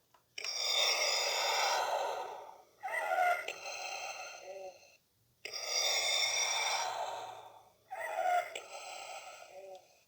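Slow, rasping mechanical breaths, drawn in and pushed out in a repeating cycle, loud and close, from the breathing effect of a Hasbro Black Series Darth Vader toy helmet.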